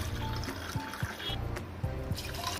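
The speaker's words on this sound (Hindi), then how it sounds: "और अब हम इसके अंदर डालेंगे शरबत।" Fennel sharbat poured over ice and mint leaves in a glass, a steady close liquid trickle with a few soft clinks and splashes, continuous for a couple of seconds with no talking.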